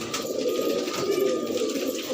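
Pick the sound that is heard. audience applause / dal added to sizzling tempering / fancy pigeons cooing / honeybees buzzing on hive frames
fancy pigeons cooing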